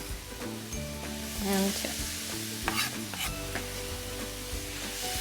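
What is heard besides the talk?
mushrooms sizzling and being stirred in a pan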